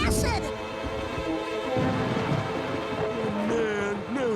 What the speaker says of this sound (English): Man, now it's gonna rain.